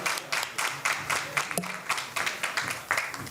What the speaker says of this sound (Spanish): Le damos un fuertísimo aplauso.